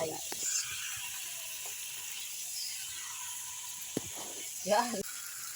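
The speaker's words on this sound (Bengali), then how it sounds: "মাংসটা নাড়তে নাড়ছি চিকেন কষা আর ফ্রাইড রাইস" Chicken kosha with oil and potato is stirred in a small kadai, giving a steady low sizzle with occasional spoon scrapes and a brief voice near the end.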